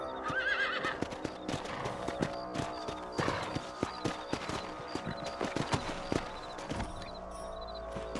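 Steady clip-clop of horse hooves walking at an even rhythm in the video game Red Dead Redemption, with a horse whinnying near the start, close and fairly loud, no talk.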